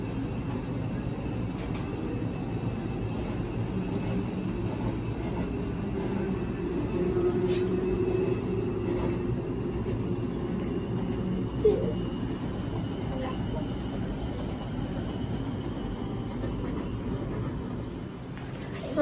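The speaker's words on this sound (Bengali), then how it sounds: "ওই যে নিচে মেট্রো রেল যাচ্ছে" A Kuala Lumpur metro train passes somewhere below, heard as a steady, low, distant rumble that holds for the whole stretch, with faint voices in the background.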